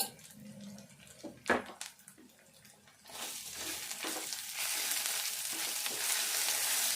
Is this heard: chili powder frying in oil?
yes